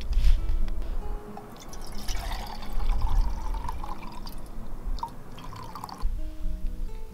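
Lake water drips and trickles into a cooking pot at a mountain camp, a close, steady run of splashes and gurgles that briefly quiets before picking up again.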